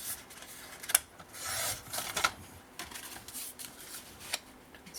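Paper being cut for a vintage interactive scrapbook album, with quiet close scissor snips and rasping rubs of paper coming in irregular bursts over several seconds and no talking.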